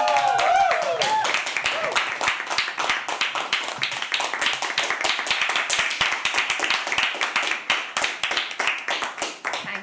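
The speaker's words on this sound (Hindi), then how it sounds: "एक बार तालियां" A crowd at a live poetry open mic at The Habitat claps steadily for several seconds, a dense patter of many hands, with a voice briefly heard at the start.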